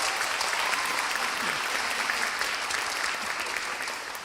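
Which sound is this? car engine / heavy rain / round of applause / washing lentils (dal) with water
round of applause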